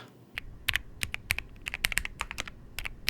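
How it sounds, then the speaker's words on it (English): Typing on a Mountain Everest 60 mechanical gaming keyboard, a steady stream of crisp, close keystroke clacks in quick uneven rhythm, with no voices. "This is the Mountain Everest 60 and it's all the keyboard I need."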